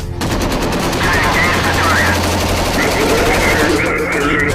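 Automatic gunfire from a video game battle, loud and continuous with dense overlapping bursts and clatter filling the whole moment, with a faint voice underneath.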